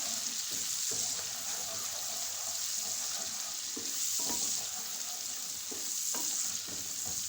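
Sarson saag tarka with coriander, chilli and salt sizzles steadily in a pan, a continuous bright frying hiss with occasional stirring scrapes and clicks, close and alone without talk.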